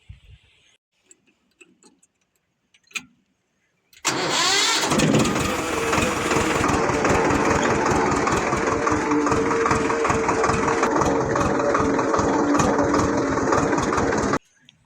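A Swaraj 724 tractor, a 27 HP two-cylinder model, starts after a few faint knocks and settles into a loud, steady idle, its rapid diesel chugging running unbroken for about ten seconds before cutting off.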